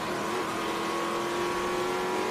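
A Hawk race car runs past on the Sebring circuit during a Trans Am TA2 race, its engine a steady, continuous drone heard at a distance with no voices over it.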